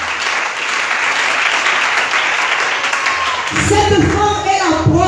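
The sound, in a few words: congregation applauding and cheering in church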